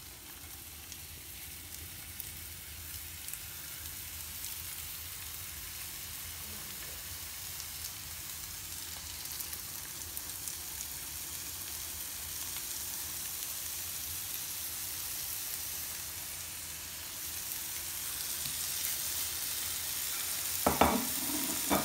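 Garlic frying in olive oil in a pan, a steady close sizzle and crackle running continuously, with a brief clatter near the end.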